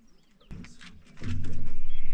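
A bird nesting inside the engine cowl of a kitplane gives soft low coos that swell and repeat in a steady pulsing rhythm near the end, after a sharp knock.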